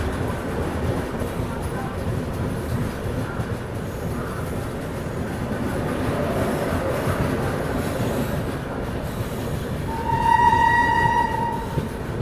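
The Bihar Sampark Kranti Express passes on the line near Aligarh, a loud continuous rumble of rolling wagons and rail clatter, ending with a brief high squeal of wheels near the end.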